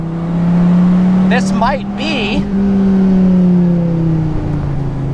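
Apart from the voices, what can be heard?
Dodge Viper 8.4 liter V10 engine revving on track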